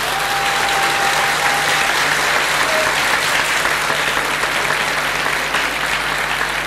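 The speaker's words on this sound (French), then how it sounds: "On applaudit pour la jeunesse camerounaise." A studio audience at a youth day broadcast gives steady, dense applause for Cameroonian youth, continuous and even throughout with no speech over it.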